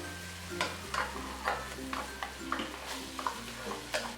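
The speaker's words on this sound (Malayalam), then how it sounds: "ഈ ടൊമാറ്റോ അരച്ചത് ഇതിലേക്ക് ചേർത്ത് ഇളക്കി കൊടുക്കാം." A spoon stirs pureed tomato into pizza sauce in a pan for a homemade vegetable pizza, giving a steady run of soft scraping strokes over a low sizzle. The strokes come close, evenly spaced, with no talking.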